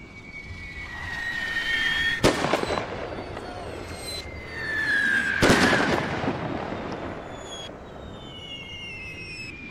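Old, inaccurate guns and cannons fire in a Napoleon: Total War battle mod: two sharp, loud booming shots a few seconds apart over a steady whooshing, rumbling battlefield bed with faint whistling tones.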